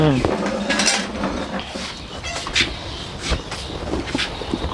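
Metal clatters and clinks against a cooking pot as its lid is handled and set on, several sharp knocks and rattles close by, with faint voices in the background.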